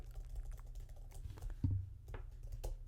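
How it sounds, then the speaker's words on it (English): Soft, scattered keystrokes tapping on a computer keyboard, irregular and light, over a low steady hum. "I can put my hands on here and just pretend I'm typing"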